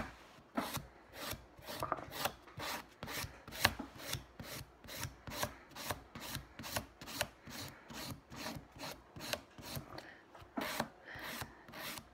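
A nail file scrapes back and forth over a dip powder nail coat to level it, quick regular rasping strokes about two per second, close and crisp, with no speech.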